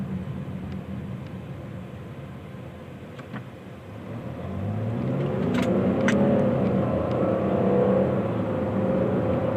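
A new Chevy Blazer SUV at night, heard from inside the cabin, settles into steady road noise before the engine swells into a louder, sustained acceleration that holds through the second half.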